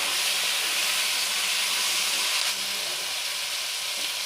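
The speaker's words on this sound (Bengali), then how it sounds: "এগুলো গ্যাসের ফ্লেমটা হাই ফ্লেমে দিয়ে ভেজে নেব।" Cauliflower pieces fry in a pan over a high gas flame for chilli cauliflower, giving a loud, continuous bright sizzle and hiss that dips slightly partway through.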